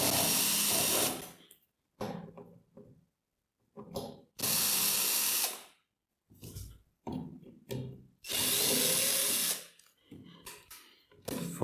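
A handheld power tool runs in short separate bursts, some over a second long and others brief, with silent gaps between, fairly close and no voices over it.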